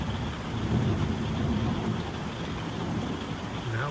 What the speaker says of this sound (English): Now with the thunder,